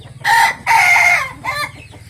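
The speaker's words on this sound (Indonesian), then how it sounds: "Nah, tuh betinanya ngkok ya" A chicken gives three loud, close calls in quick succession, harsh and drawn out, over a faint low hum.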